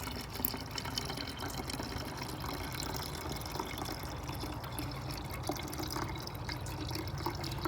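Coolant pours into a car engine's reservoir in a garage, a soft continuous trickling and gurgling of liquid with light drips, steady and fairly quiet throughout.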